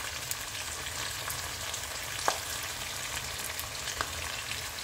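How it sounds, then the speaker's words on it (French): Tomato sauce for a pork-shoulder meat sauce sizzles steadily in a pan, a continuous hissing fry with a couple of soft clinks, heard alone at moderate level. "On laisse cuire"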